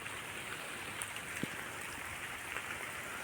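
Rain falling on open farmland in the Gir region, a faint, steady hiss that stays even throughout, with no voices.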